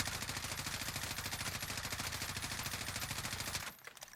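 A weapon running an extended magazine in Warzone fires one long, steady automatic stream of rapid, evenly spaced shots that stops abruptly just before the end, leaving faint trailing sounds.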